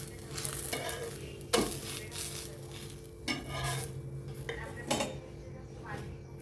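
Semolina dosa browns in a pan, a soft continuous sizzle punctuated by several clinks and scrapes of a utensil against the metal, with faint voices in the background.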